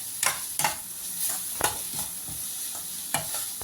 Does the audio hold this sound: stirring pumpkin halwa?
yes